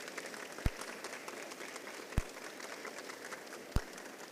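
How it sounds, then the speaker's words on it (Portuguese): Faint, distant applause from a crowd rattles on steadily, broken by three dull thumps at even intervals. "Uma salva de palmas para eles."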